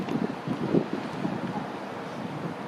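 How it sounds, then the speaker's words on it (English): Gusty wind buffets the microphone high up at Hoover Dam, a constant low roar with a few stronger gusts near the start, loud and close with no clear speech. "It's windy up here at the dam."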